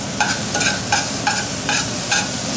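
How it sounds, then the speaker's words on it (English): Garlic sautéing in a pan sizzles steadily and loudly close up, with a regular series of stirring scrapes roughly every half second. "So now we got our garlic sauteing away"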